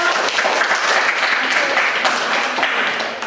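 A classroom of students applauds together, a dense, even clatter of clapping that holds steady for a few seconds before tapering slightly at the end.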